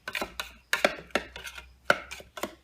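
A knife chops fresh herbs for pesto on a cutting board in a steady series of close, crisp strikes, each a short sharp chop with small scraping between, no voices.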